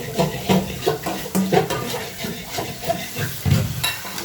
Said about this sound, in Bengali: মশলাটাকে কষিয়ে পরে মাংসটা ছেড়ে দেবো